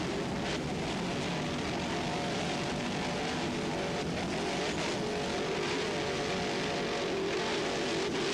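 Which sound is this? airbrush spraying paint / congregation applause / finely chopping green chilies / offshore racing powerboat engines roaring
offshore racing powerboat engines roaring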